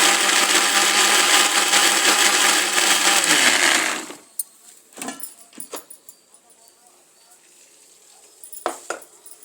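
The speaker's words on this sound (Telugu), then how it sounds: "ఎందుకంటే మిక్సీ పడుతున్నాను." An electric mixer grinder whirs loudly and steadily for about four seconds, grinding masala for a mutton curry, then cuts off, leaving scattered clinks and clatter in a quiet home kitchen.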